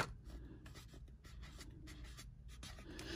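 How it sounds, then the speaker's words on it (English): Oil-based marker pen writing on paper, a faint, close scratchy stroking that runs in short bursts for a few seconds with no talk. "Let me write with this one also."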